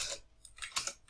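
Typing on a computer keyboard, a quick irregular run of close, crisp key clicks with short pauses between bursts, heard alone without speech.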